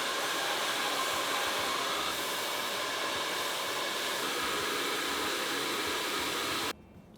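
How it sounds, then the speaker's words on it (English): A cheap hair dryer blows hair with a loud, steady broadband whoosh close to the listener, running without a break before cutting out abruptly near the end. "I'm gonna try blow dry it with both of them."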